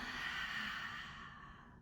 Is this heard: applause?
no